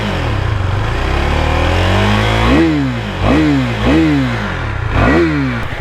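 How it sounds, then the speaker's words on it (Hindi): A KTM Duke 390 BS6 motorcycle idles loudly at close range, then its exhaust barks through four sharp throttle blips that rise and fall quickly, spaced about a second apart. No one speaks. "तो बाइक शुरू करने से पहले मैं आपको एक अच्छा खासा एग्जॉस्ट नोट दे दूँ।"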